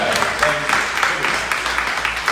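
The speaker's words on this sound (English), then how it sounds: "Give them a round of applause." Audience applause fills a town hall meeting, a steady wash of clapping sustained throughout at moderate loudness, with a few voices mixed in beneath it.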